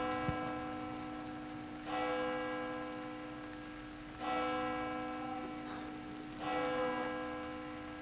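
Three rich bell strikes ring out at steady intervals, each decaying slowly over a constant hiss of falling rain, with no voices present.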